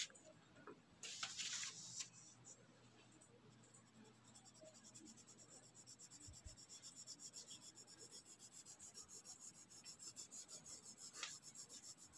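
2B graphite pencil shading back and forth on drawing paper, a soft continuous rubbing rasp close up and quiet, with a brief heavier scratch early on and steady strokes throughout.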